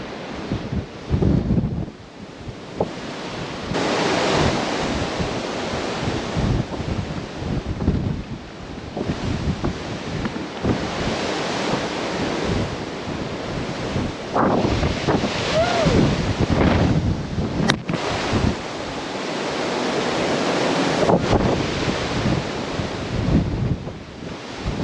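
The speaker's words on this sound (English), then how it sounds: "the wind is ripping out here" Strong winter wind gusts across an exposed Appalachian Trail ridge and buffet the microphone in loud, rumbling surges that rise and fall continuously, with no voices heard.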